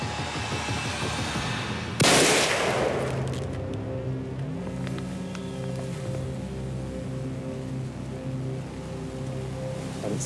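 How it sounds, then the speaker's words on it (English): A single sharp rifle shot cracks out while hunting a whitetail buck in Wisconsin, a loud sudden blast that decays into an outdoor echo over steady wind-like background, no voices. "go ahead and shoot that buck"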